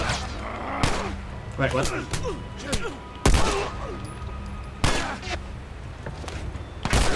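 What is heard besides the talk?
gunfire in The Last of Us Part 1 video game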